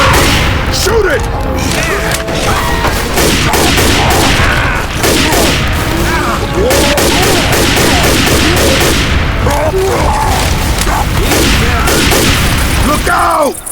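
Constant heavy gunfire in Left 4 Dead 2, loud and relentless, with overlapping shots, bursts and booms packed tightly together for the full stretch.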